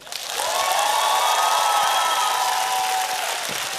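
Audience applause and cheering fill the stage of a live X-Factor Ukraine talent show broadcast, rising quickly and holding as a loud, dense, steady wash with a ringing tone above it, no voices over it.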